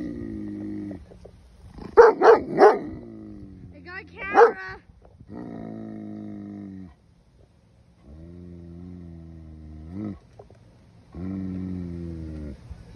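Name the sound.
dog barking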